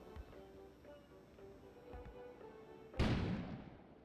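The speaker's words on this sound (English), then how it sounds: "An explosion suddenly occurred outside." A sudden loud explosion bursts outside at about the three-second mark in the video game Kona, a broadband boom that decays over the last second after quiet ambient background with a few faint low thuds.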